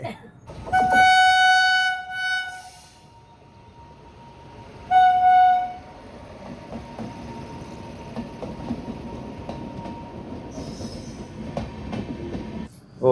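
A train horn blasts twice, long and loud, then a train rumbles steadily past at a crossing, wheels clattering for several seconds.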